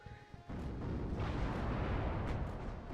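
Artillery and supporting fire in the WARNO wargame, a dense continuous rumble of explosions kicking in after a brief quieter lead-in and rolling on loudly with overlapping booms.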